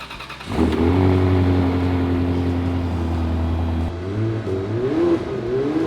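A car engine cranks and catches, then holds a loud steady drone close by before climbing through a few short revving swells near the end.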